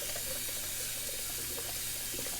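Tap water runs steadily into a sink to rinse soap from a Simpsons Chubby 2 shaving brush, a constant close splashing stream with no talk.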